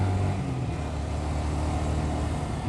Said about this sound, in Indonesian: Ada keduluan mobil.